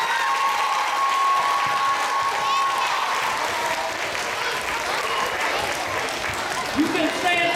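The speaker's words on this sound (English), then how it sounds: "Please give them a wonderful round of applause" An audience applauds school teachers and staff after a jazz performance, steady clapping with a few scattered cheers that gradually thins, and a voice speaking faintly near the end.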